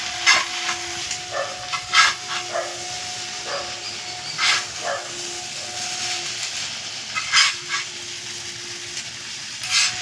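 Vegetable chow mein stir-fried in a pan: a steady hissing sizzle with repeated scraping stirs and clanks, close and fairly loud.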